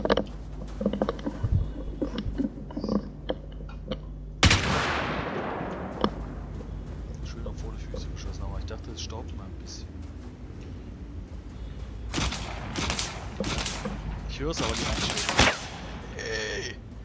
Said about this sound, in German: Jetzt hat er mich mit dem letzten Schuss getroffen.